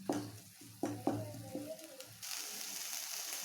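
Masala with green chilies for chickpea sundal frying in a pan, a few sharp spatula knocks and scrapes followed by a steady rising sizzle, close and fairly quiet with no speech.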